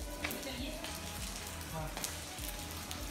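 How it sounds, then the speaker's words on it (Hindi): Heavy rain falls steadily in Himachal, a dense continuous hiss of drops on surfaces with scattered sharper splashes, fairly close and even in level throughout. "बर्फ तो नहीं, बारिश लग रही बहुत ज़्यादा"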